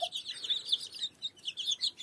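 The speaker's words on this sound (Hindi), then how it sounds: "मुर्गी है मुर्गी जी प्योर सील है" An Aseel hen clucking and calling in a hen colony, a run of bright repeated clucks in quick uneven bursts, close and fairly clear, with no voices.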